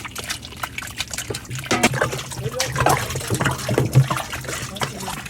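Cooking oil, 2.5 liters, poured into a large double-deck deg pot for mutton biryani, heard as a continuous liquid glug and trickle, moderately near, with faint voices in the background.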